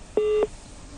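A single steady telephone line tone after a call drops during a live phone-in broadcast, one short flat beep lasting about a quarter second, clear and isolated over a quiet background.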